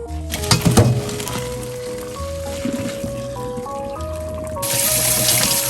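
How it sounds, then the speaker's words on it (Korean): Boiled medium wheat noodles, two portions, are rinsed under cold running water, a steady trickle and splash with wet squelching as the noodles are rubbed by hand. A faint tonal hum runs beneath. "찬물에 재빠르게 좀 씻어주셔야 돼요"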